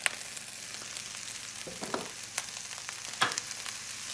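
Drained cooked noodles go into a pan of American goulash, giving a soft sizzle under scattered clinks and sharp scrapes of a utensil against the pan. The sound is quiet and close, with no talk.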